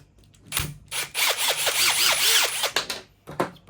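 Close-up power drill unscrewing fasteners from a 12-volt power box, with a sustained whine that repeatedly swoops in pitch, followed by a few short bursts and clicks.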